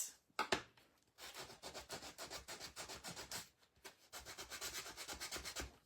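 Dark wax rubbed by hand onto a craft jack-o'-lantern pumpkin, close, soft scrubbing strokes that repeat in rapid bursts with short pauses between them.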